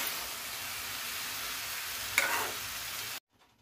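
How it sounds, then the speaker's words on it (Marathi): Star gooseberries and sugar are stirred in a pan as the sugar melts into syrup, producing a steady, even frying hiss with a brief scrape of stirring before it cuts off abruptly. "हे साखरेचा छान असा पाक तयार होईपर्यंत मिश्रण हलवून घ्यायचे आहे"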